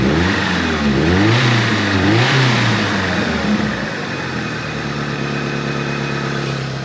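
A 1983 Turbo Coupe engine running just after being restarted following 20 years off, close and loud, revving up and down in sweeping pitch before settling into a steadier fast idle, no voices.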